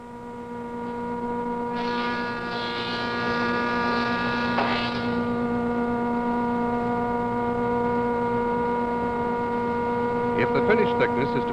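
A single-surface planer running stock through, with a steady loud motor hum and whine throughout, a rising cutting roar through the middle as the board feeds, and brief clatter near the end.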